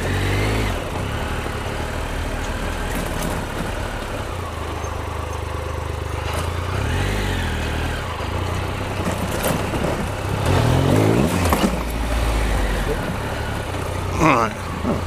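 A Triumph Explorer XCa motorcycle rides a maze of dirt tracks through trees. Its engine gives a steady, continuous rumble for the whole stretch, with rushing wind noise and a brief swell in loudness toward the end.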